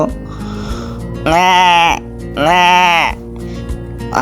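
Two long, loud bleats in a row, each about a second with quiet gaps between, close by and clear.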